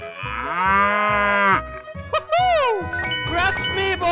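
A cow in a 3D animal slide video game gives a long, loud synthetic moo, followed by bright jingling chimes and sweeping tonal game effects over a rhythmic beat.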